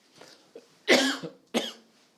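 A person coughs twice, sharp and close, with a few softer throat sounds around them.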